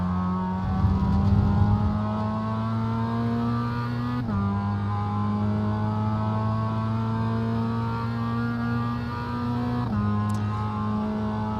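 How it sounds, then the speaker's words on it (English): BMW race car in iRacing's Production Car Challenge at Portland, engine revving hard and climbing through the gears as it pulls past a GR86, with another car's steady engine drone underneath and shift breaks near the start and end. "As the BMW finally uses all its power just to sail past the GR86"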